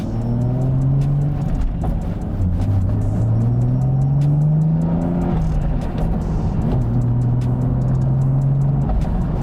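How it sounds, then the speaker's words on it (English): A Nissan Skyline GT-R fitted with a UniClutch Track clutch drives along, its engine droning steadily up close as the revs climb and fall through gear changes, with no talking. "So let's go for a little drive first."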